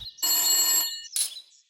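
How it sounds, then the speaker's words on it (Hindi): A telephone rings in a comic-strip scene: one long, loud electronic ring followed by a shorter second burst, with no voices. "तभी टेलीफोन बजता है।"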